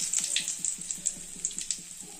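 Mustard seeds and curry leaves sizzle in hot oil while cooking a beans chikkudu kaya fry, a steady crackling hiss with a quick run of small, evenly spaced pops, close and moderately loud, with no talking.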